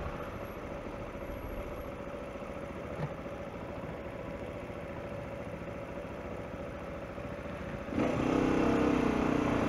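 A 2016 Mondial Rx3i Evo motorcycle engine idles steadily while stopped at traffic lights, a constant low throb with street ambience, growing louder and rougher in the final seconds.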